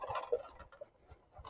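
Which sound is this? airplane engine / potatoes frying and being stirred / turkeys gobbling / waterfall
turkeys gobbling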